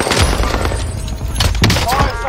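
Bursts of gunfire crack and thump in a battle royale video game, loud and close, coming in rapid clusters while a voice talks over the action.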